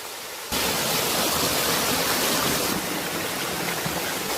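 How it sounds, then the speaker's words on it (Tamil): Small waterfall and stream after overnight rain in the Yercaud hills, a loud, steady broadband rush of falling and flowing water that cuts in abruptly and continues unbroken, close by, with no talking. "சின்ன அருவி வந்து ஓடுறத பார்த்தோம்."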